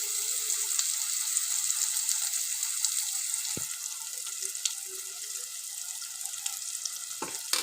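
Ginger with turmeric sizzling in a pan of oil for a prawn and tomato curry, a steady, soft crackle and hiss running the whole time, with a faint clink near the middle.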